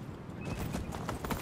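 Quick, close clip-clop of a horse's hooves in Skyrim with the Wildlander mod, a short run of even steps over faint outdoor game ambience.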